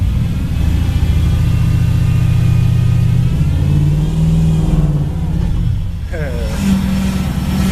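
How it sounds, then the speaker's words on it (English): A truck engine revs hard during a burnout inside a shop, a loud, close, sustained roar that rises and shifts in pitch before easing off, with voices briefly heard under it. "She just did a burnout in the shop."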